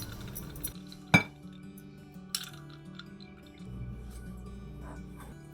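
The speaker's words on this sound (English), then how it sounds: "So I got some ice cubes in there." A sharp clink of ice cubes against the glass in a cup of ice-cold water, followed by a softer second clink and a faint background hum, close and fairly quiet.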